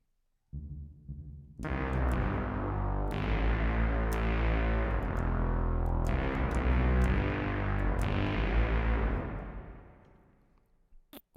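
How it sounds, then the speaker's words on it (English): Electric guitar chords drenched in a heavy, exaggerated plate reverb from a synth pedalboard, each strum blooming into a long shimmering tail that slowly fades out at the end. "So the caps plate reverb has been active for this entire video and it sounds a bit like this."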